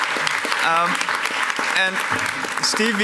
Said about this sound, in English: I would like a big round of applause